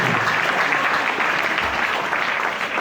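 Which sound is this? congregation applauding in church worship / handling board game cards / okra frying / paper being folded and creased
congregation applauding in church worship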